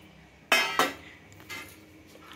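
A metal plate is set down near a cooking spread of dry-roasted chillies and spices, giving two sharp clinks close together, then a softer knock.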